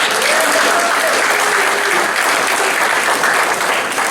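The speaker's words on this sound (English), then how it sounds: "the clapping is for her" Loud, dense audience clapping that fills the whole stretch evenly, many hands close together with a faint voice or cheer briefly audible beneath.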